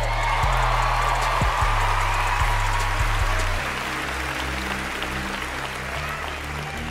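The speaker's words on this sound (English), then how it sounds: "After initially blowing up in raucous applause" A large awards-show audience applauds in a steady, dense wash of clapping, with faint cheers mixed in, loud and sustained throughout with slight drop in level midway.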